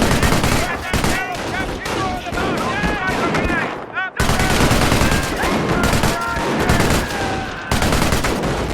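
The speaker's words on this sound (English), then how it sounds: "An MG emplacement is an excellent defense against attacking infantry." Machine gun emplacement firing in the Company of Heroes battle game, dense continuous bursts of gunfire layered with explosions and battle noise, loud and close, with a brief pause midway.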